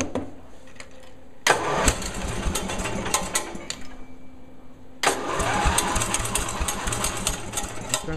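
A snow-pushing machine's engine cranks with a clattering rhythm, catches, and keeps running in a rough, close mechanical chug, with no talking.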